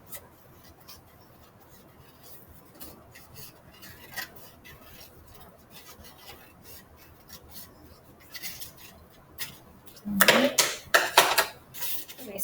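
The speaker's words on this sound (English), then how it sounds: "So I'm going to take my scissors," Scissors cut paper along a drawn line in a craft project, quiet snipping and rubbing at first, then a burst of louder, close crisp cuts near the end.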